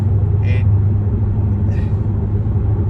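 Chevrolet V8 with headers and a stage 1 cam idling, a deep steady low rumble throughout, close and loud, with two brief higher sounds over it.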